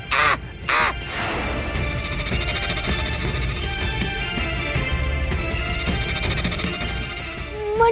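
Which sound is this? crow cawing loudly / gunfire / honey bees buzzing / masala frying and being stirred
crow cawing loudly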